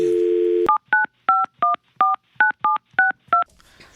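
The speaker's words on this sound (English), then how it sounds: "now it is time to call up Beesball" A phone line's dial tone cuts off into a quick run of about ten crisp DTMF keypad beeps, evenly spaced and loud, as a number is dialed.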